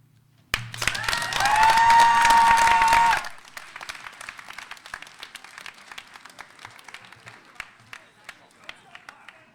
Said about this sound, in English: Huge round of applause for Lexi and Megan,